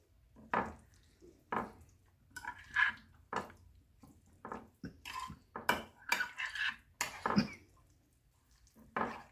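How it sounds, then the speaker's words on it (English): Vegetables are stirred into a lime jello salad, giving a string of close, soft clinks and wet scrapes of a spoon against a bowl in irregular bursts, with quiet pauses between them. "Let's just stir this around."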